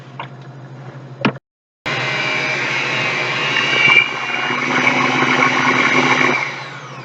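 An electric stand mixer beating sticky dough, a steady loud whirring motor drone that stops briefly after a click, then restarts and runs continuously for several seconds before easing down slightly.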